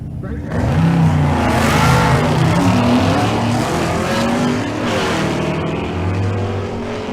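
A drag race car powering down the quarter mile at Kearney, Nebraska, a loud continuous engine roar with rising revs and shifts heard close throughout, and a commentator talking over it.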